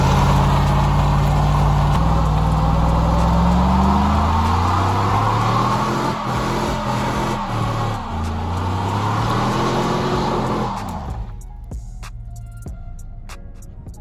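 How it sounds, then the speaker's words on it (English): A Chevrolet Silverado pickup holds a loud, sustained engine roar during a burnout, its revs wavering and dipping over several seconds before cutting back sharply toward a lower rumble near the end. "The last and same thing I love about this truck is it does nasty burnouts."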